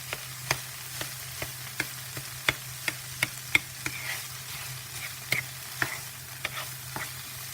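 A spatula breaks up tofu frying in a pan for a vegan breakfast burrito, with sharp, evenly spaced taps about twice a second over a low, constant sizzle.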